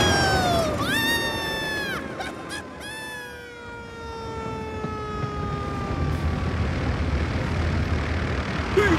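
A cartoon airplane's propeller running, a loud continuous droning engine hum under bright whistling, sliding tones and a squawking bird-like call, steady throughout.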